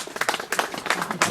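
A short burst of audience clapping and applause for a man named George Lacey, close and lively, with a voice faintly mixed in.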